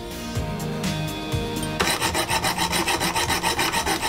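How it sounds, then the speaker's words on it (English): Close rasping hand-file strokes tidying a sawn hole in a DIY lightsaber part, in a fast, even rhythm, following a few scattered scrapes and knocks at the start. "then tidy it up with files"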